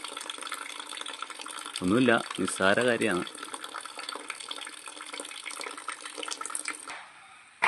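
Water drains out of a can in a steady trickling, splashing flow, mostly faint and continuous, with someone speaking briefly over it before it tapers off near the end.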